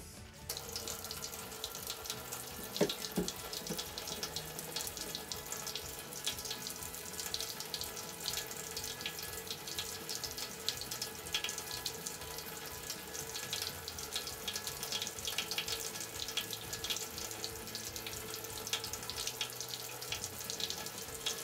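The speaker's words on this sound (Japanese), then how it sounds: "お顔を洗います。" Tap water runs steadily into a sink while someone washes their face, a constant close splashing hiss with a few small clinks early on, and no talking.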